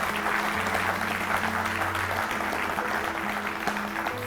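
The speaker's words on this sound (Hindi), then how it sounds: "एक बार फिर से ऊर्जा से भरी तालियों के साथ।" Audience applause at a Mahila Kisan Diwas women farmers' event stage, a steady, dense wash of clapping lasting throughout, with faint low tones running underneath.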